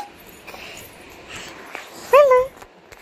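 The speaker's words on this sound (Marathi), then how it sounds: "पिल्लू" A puppy gives a sharp rising whimper and yip near the end, loud and close, after a stretch of quiet rustling.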